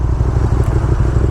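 Steady close engine drone of a 2019 KTM Super Duke R motorcycle while riding, a continuous low rumble with wind noise and no talking.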